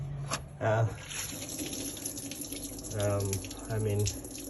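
Rusty water draining from the radiator of an 80 series Land Cruiser, a faint trickle and splash, with a few short louder gushes standing out from low background noise.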